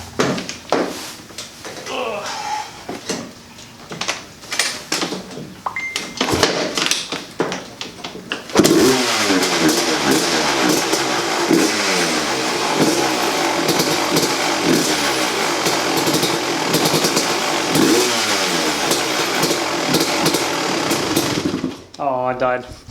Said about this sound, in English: let me start the two-stroke because I know you guys want to hear it